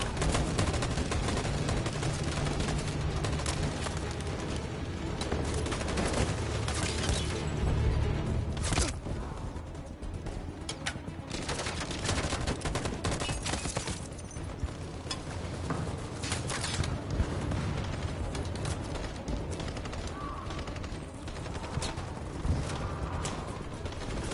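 Sustained gunfire in the video game Detroit: Become Human, dense volleys of shots and mechanical clatter filling the whole stretch continuously and loudly, with no talking.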